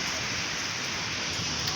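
A village hailstorm in Odisha, a dense, even hiss of hail and rain pelting surfaces, loud and unbroken throughout the brief stretch, with no voices.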